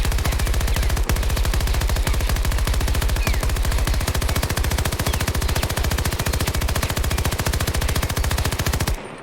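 Sustained automatic gunfire in the video game Battlefield, a dense, rapid, even stream of loud shots lasting several seconds before cutting off abruptly near the end.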